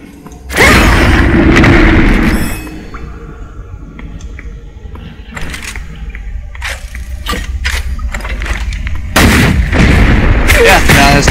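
A Tiger Cannon fires in a shooter game with two heavy, booming blasts several seconds apart, each followed by rumbling debris and scattered crackling impacts in between.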